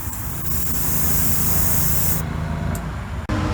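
An aerosol can sprays white sealer primer onto a small die-cast Hot Wheels '71 Datsun 510 body, a steady close hiss for about two seconds that then cuts off, followed by a faint tap.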